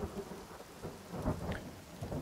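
Rain and thunder in the survival video game The Forest, a steady wash of rainfall with low rumbling thunder rolling underneath, continuous and fairly close with no voices.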